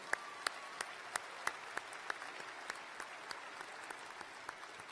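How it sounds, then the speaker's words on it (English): Scattered applause from a commencement ceremony audience, heard as a quiet run of separate, distinct hand claps at a fairly even pace that slowly thins out. "let's give him another round of applause"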